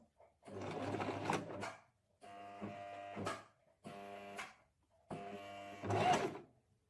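A sewing machine topstitches the fabric of a bag organiser in three separate bursts with short pauses between them, a steady close mechanical whirr with a buzzing hum.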